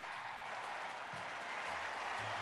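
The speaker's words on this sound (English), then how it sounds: "Give a big cheer." Audience at an event applauding, a continuous, even wash of clapping throughout the short stretch with no voices over it.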